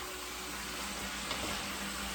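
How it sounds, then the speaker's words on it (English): Bean sprouts coated in noodle sauce sizzle steadily in a hot pan while being stirred, a dense continuous crackling hiss close up with a faint scrape. "you basically just stir it up for the sauce to go over the bean sprouts"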